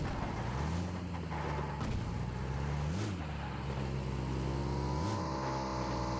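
A motorbike in the BGMI battle royale game, a steady engine drone with harmonics rising and falling as the throttle revs, close and loud with no talking.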